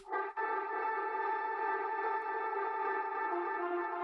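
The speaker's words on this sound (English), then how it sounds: "this thing basically works and allows you to just make ambient sounds or atmospheres" Ambient atmosphere from an ambience rack with a volume shaper adding movement, a steady droning pad of stacked tones after a brief swelling onset, moderately quiet and continuous, with no talk.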